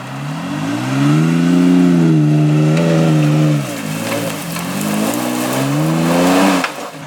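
Lifted third-generation Toyota Tacoma engine droning and revving steadily off-road in crawl control, a loud sustained mid-pitched hum rising and falling in waves, with a brief dip midway and a drop at the end.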